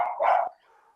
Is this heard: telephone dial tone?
no